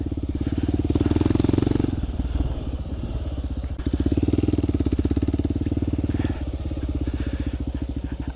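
A Kawasaki KLX 140L dirt bike runs nearby at a track, its engine buzzing loudly and rising and falling as the throttle opens and eases repeatedly.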